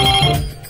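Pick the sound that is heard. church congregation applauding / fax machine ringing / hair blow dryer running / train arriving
fax machine ringing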